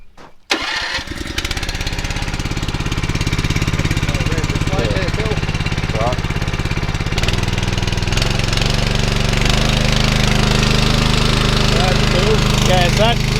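A fire fighting pump engine starts up and runs steadily, revving up to a louder, higher pitch partway through. The droning motor is loud and close, with voices talking over it.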